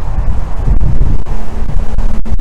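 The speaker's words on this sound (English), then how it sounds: "Wow, so windy." Strong wind buffeting the microphone, a loud rumbling roar with gusty swells and no clear speech.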